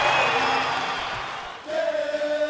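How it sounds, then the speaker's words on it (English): Hockey fans in an arena at a semifinal playoff game, a loud sustained crowd roar with shouts that dips briefly and then swells again. "Listen to the fans cheer."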